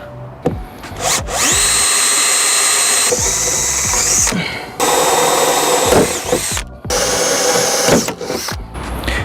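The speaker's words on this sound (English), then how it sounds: "now we're going to drill these out ready for the rivets to go in." A loud power drill whines at high speed in several long bursts, drilling rivet holes in metal on a Land Rover, briefly stopping between holes and spinning up again, close by with no talking.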